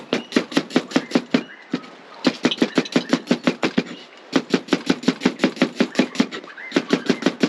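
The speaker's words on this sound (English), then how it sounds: "So just slice the onions." Onions being sliced with a knife on a cutting board while making chicken curry: a fast, steady run of sharp chopping taps in bursts, with short pauses between, close and loud.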